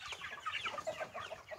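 An Australorp rooster clucks and calls in quick, uneven bursts close by, with several sharp syllables repeating through the short stretch.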